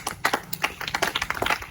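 A short burst of hand clapping after a correct answer in a science quiz, with dense, irregular claps at close range and no talk.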